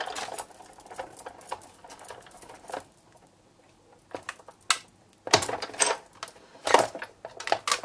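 A Big Shot die-cutting machine is cranked to roll paper through, giving a run of irregular clicking, ratcheting and rattling sounds that come in uneven bursts, close and moderately loud, with no talking.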